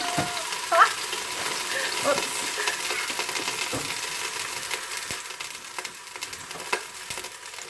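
A roast sears in a hot pan, giving off a soft, steady sizzle and frying crackle, with a few metallic clinks and scrapes from the cookware near the start.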